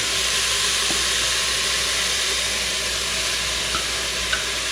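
Onions fry in hot oil in a pan, a steady, loud sizzling hiss with occasional faint pops, heard alone.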